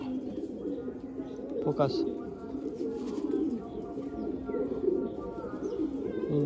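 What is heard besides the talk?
tournament pigeons cooing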